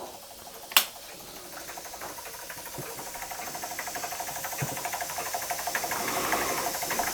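A Jensen 25 model steam engine running down after its power is cut, a rapid even mechanical chuffing and clatter that carries on steadily and grows slightly louder, with one sharp click near the start.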